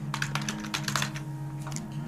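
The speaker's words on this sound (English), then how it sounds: "I'm just typing my email address again." Quick, uneven clatter of keys being typed on a computer keyboard, close by, over a steady low electrical hum.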